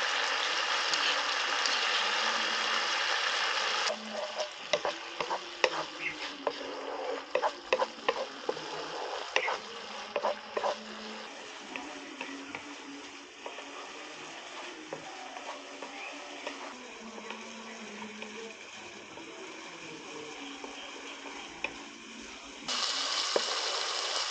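Spiced masala with crushed cashew paste fries and sizzles in a pan while being stirred for potol with potato, a steady frying hiss broken by scraping spoon strokes and clicks, close and alone.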